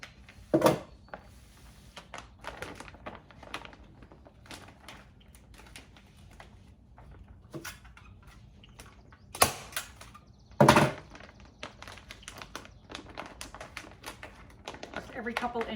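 Vinyl upholstery being stapled onto a stool made from a shop vac, with several loud, sharp staple-gun snaps spaced seconds apart among soft rustling and handling sounds.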